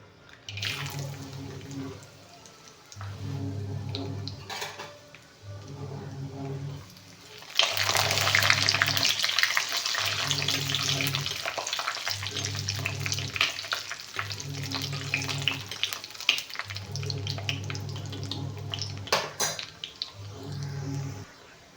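Cashews, raisins and pistachios sizzle in hot ghee, a steady frying hiss that thickens after a few seconds, while a rhythmic low thumping pulse repeats underneath throughout.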